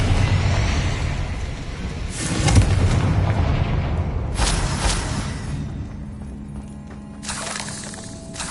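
Blasting-spell explosions from a video game, several loud booming bursts with crackling debris spaced a couple of seconds apart over a rumbling background.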